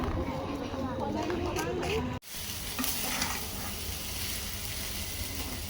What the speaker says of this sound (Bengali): মাংস দিলাম, এটা দিয়ে নুডলস রান্না করে দিচ্ছি।